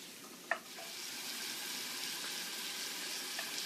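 A steak cooks in a hot pan, giving a steady, close sizzle and hiss throughout, with one brief sharp pop near the start.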